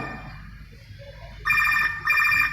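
A telephone rings twice in quick bursts after a short quiet pause, bright and fairly close, with no talking over it.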